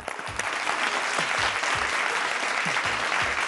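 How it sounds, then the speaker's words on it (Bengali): A studio audience on a televised family show bursts into warm, sustained applause with many hands clapping at once, fairly close and filling the whole moment, with a few faint voices underneath. "আগে একটা শাশুড়িমার জন্য একটা হাততালি দিইনি আমরা?"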